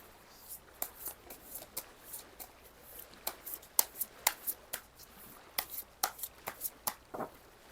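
Tarot cards being shuffled and handled, a steady run of crisp riffling slaps and flicks, close and fairly quiet, repeating in uneven bursts with no talking.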